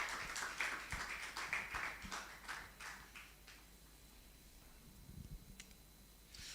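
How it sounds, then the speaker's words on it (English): A small audience at the Falling Walls Lab event in Accra, Ghana, claps for two presenters, a thin ragged patter of hands that is strongest at first and then fades out to near quiet. "A big round of applause for these 2 gentlemen."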